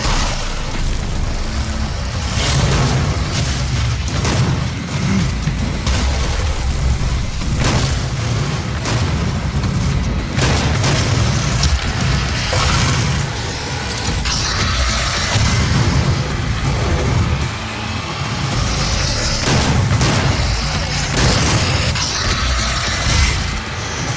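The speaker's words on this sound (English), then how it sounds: "Super shotgun's handy to have when you got two shots." Repeated super shotgun blasts ring out in Doom Remastered, heavy booming shots stacked over a dense, continuous roar of combat noise throughout, with no clear gaps between them.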